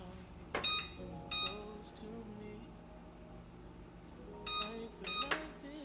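An oven control panel beeping while preheat is set to 425 degrees, a few short electronic beeps in two clusters, quiet and close, with faint background sound between them.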